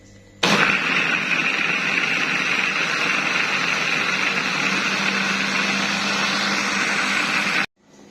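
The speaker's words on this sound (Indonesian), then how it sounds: "Sekarang kita blender sampai halus" A blender whirs loudly and steadily for about seven seconds blending spices with water, starting abruptly and cutting off sharply, with no talking.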